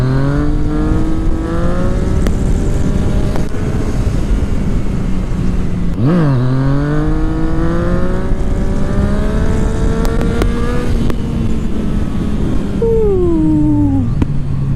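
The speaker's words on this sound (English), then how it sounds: "Pull the clutch in, give it a little more gas." A motorcycle engine revs hard and holds a sustained whine through a wheelie, pitch rising and dipping as the throttle is worked, with sharp blips near six and fourteen seconds; loud and close, no voices.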